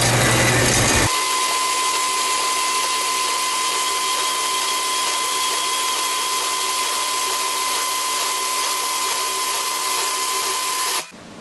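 A bandsaw runs and cuts steadily for about ten seconds in a workshop, a loud continuous whine with a high steady tone that stops abruptly at the end.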